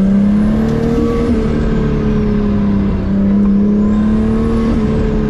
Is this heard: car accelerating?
yes